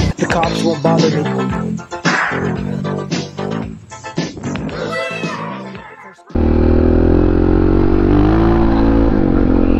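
Honda XR650R dirt bike ridden slowly through town, its engine chugging and revving unevenly with clattering mechanical noise. After about six seconds a steady, loud, droning engine note takes over and holds to the end.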